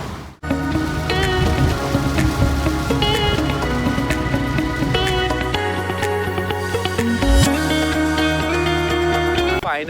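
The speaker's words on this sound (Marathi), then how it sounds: "बाहेर बघाल ना तुम्ही एवढा पाऊस चालू झाला अचानकच" Heavy, sudden rain pours outside an airport, a loud continuous wash of drops under a steady hum with tonal background noise throughout.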